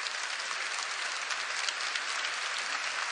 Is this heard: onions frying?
no